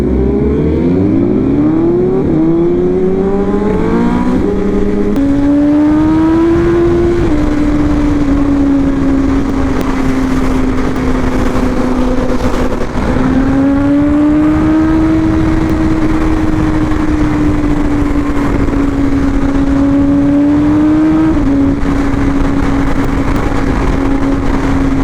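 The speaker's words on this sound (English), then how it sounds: "He's racing that ZX10, the double R." Sport motorcycles, a Kawasaki ZX10 and a BMW S1000RR, race along a highway. The engine drones loud and close with rising and falling revs and gear changes, over steady wind roar and with no talking.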